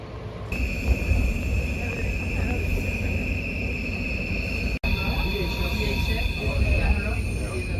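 Steady rumble of a Scandinavian train with a snow plow on the front, a continuous close drone with a high whine and a brief dropout midway, with faint voices in the background.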